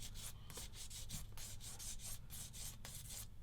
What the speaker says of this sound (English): what I'm going to do is sand that off using the old